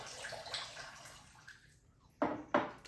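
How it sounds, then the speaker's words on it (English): Water splashes into a pot in two short, distinct pours, following a stretch of quiet kitchen background noise. "And then you want to put some water in there. A cup of water."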